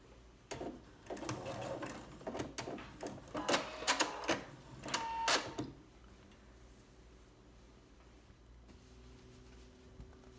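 Short bursts of a sewing machine stitching quilt block pieces, quick mechanical rattling runs close by, followed by a few seconds of near quiet.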